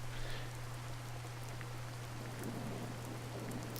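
Rain falls steadily in the Sakura Spirit video game, a soft, even hiss with scattered drops and a low steady hum underneath, no voices.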